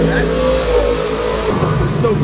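Race cars rev along Woodward Avenue at Roadkill Nights, a loud, steady engine roar that drops in pitch partway through and sits under and between voices.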